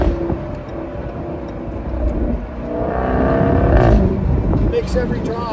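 A 2021 Jaguar F-Type R driven at normal commuting pace with the top down, its engine a steady hum that swells briefly with wind noise, while a person talks over it.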